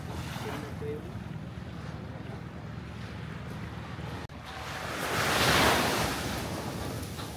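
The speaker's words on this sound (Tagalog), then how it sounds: "tingnan nyo naman yung dagat sa likod ko" Sea waves roll in continuously off Port Barton, Palawan, with wind buffeting the microphone and a larger surge building up partway through.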